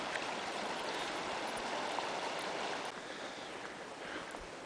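The Slate River, a small mountain stream beside a camping area up the Slate River Road, flows in a steady, broadband rushing wash, continuous and close.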